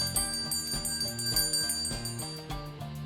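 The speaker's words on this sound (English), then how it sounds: "Ring the bell." A stream alert bell chiming repeatedly in a bright, rhythmic ringing pattern, clear and close, with several tones struck in quick succession and no talking.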